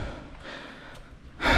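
A person climbing a slope breathes heavily, with soft faint exhales early on and then a loud, close gasping breath at the end.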